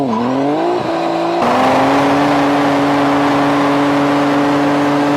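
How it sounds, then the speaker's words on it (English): A Toyota Supra engine drones loudly and steadily, with a brief dip in pitch before settling into a sustained higher rev. "Now listen to what the Supra sounds like."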